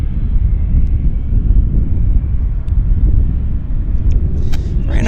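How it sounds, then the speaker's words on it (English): An Embraer jet at Vancouver airport produces a loud, continuous low rumble with wind buffeting the microphone, steady throughout with a few faint higher clicks near the end. "Here's our Embraer."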